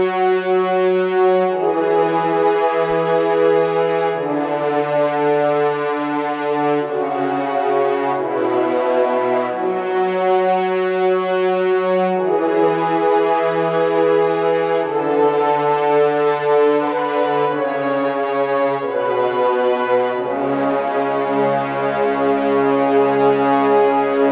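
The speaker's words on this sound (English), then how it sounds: "I used the Cinebrass 12 horn ensemble as before" Sustained brass chords from the Cinebrass 12 horn ensemble layered with Forzo horns, played solo in an orchestral metal arrangement, with full, loud held notes shifting through a slow chord progression without pauses.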